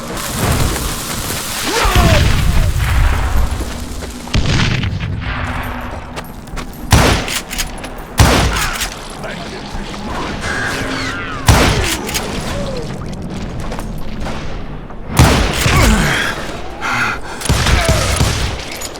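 Loud, repeated gunshots and heavy booms erupt in irregular bursts and single blasts, some reverberating like explosions, with shouts and gasping voices mixed among the firing.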